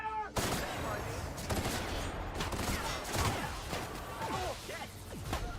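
Gunfire crackles in The Outer Worlds, dense rapid bursts of shots and impacts forming a sustained firefight, loud and close with brief voices mixed in.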